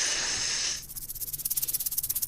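A rattlesnake's hiss changing into a fast, buzzing rattle that pulses rapidly and grows louder, close and alone.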